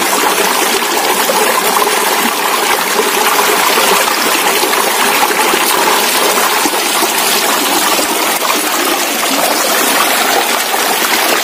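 A river stream flows loudly and steadily, a dense continuous rush of water with no pauses, heard close up with no voices over it.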